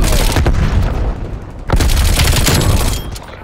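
Grenade blast in the multiplayer shooter Call of Duty: Cold War, a loud broadband boom around the middle with dense gunfire and rumble before and after, no talk.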